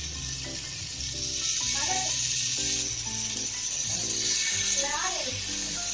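Paneer cubes fry in oil on a hot tawa over a medium flame, giving a steady bright sizzle through the whole stretch, with tonal voice or music sounds running underneath.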